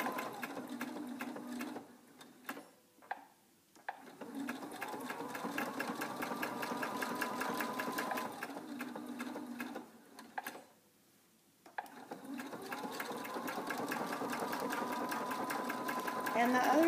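A sewing machine stitches a fabric mask in fast, even mechanical bursts that stop and restart between runs, close and clear, with a person talking over parts of it.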